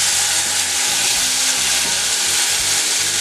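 Asafoetida and cumin paste sizzling in hot oil, a loud continuous hissing fry that stays even from start to finish with no voices.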